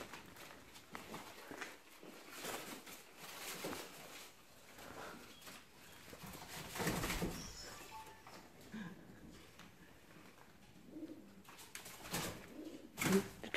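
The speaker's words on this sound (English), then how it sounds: "There's pigeons in here, be careful." Pigeons coo inside an abandoned old school building for juvenile offenders, with soft repeated calls, wing flutters and footsteps echoing through the empty rooms, and occasional quiet talk.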